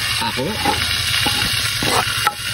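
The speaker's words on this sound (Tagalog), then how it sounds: "Lagyan na natin yung sibuyas." Onion and tomato fry in a hot pan with a loud, steady sizzle, broken by a few stirring scrapes and a short burst of voice.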